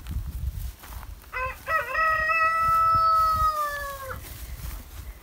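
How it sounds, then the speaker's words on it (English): A large backyard rooster crows once, close and loud, starting with a few stuttering notes before a long drawn-out call that fades off, with no talk over it. "So that's my rooster, King Kong. He's huge. He talks to me when I come outside"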